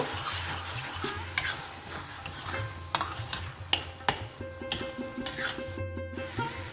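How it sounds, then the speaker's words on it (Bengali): Keema stirred with kasuri methi in a pan for dhaba-style keema matar, a soft sizzle with rhythmic spatula scrapes and occasional sharp metallic taps, close and fairly quiet, no speech. "কসুরি মেথি দিয়ে সব কিছু একসাথে মিশিয়ে নেব"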